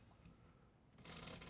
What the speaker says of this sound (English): just give the cards a couple shuffles here